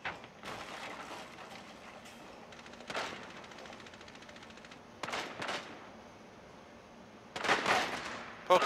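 Gunfire in the video game Rainbow Six Siege during a hostage team deathmatch on the Presidential Plane map: several rapid automatic bursts, moderately loud, separated by a constant low hiss, with no talking.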